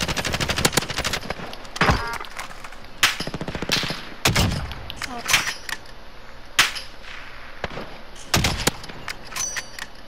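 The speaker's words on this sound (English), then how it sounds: "Of course we're shooting at you." Video game gunfire crackles in rapid automatic bursts and single sharp shots, repeated irregularly throughout and loud against a faint background.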